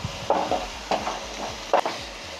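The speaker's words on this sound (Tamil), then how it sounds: "இப்போ இது கூட மிக்ஸ் பண்ணி விட்டுட்டு நல்லா இதை வதக்கிக்கலாம்" Grated carrot, cabbage and onion sauté in a pan, with a soft steady sizzle and a few distinct spatula stirs and scrapes, fairly faint.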